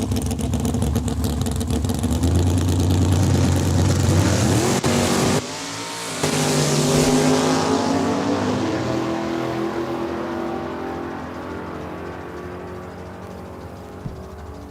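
A Ford Mustang and a white second-generation Ford Fairlane drag race side by side at a raceway. Loud engines roar and rise in pitch under acceleration, then the noise fades as the cars pull away.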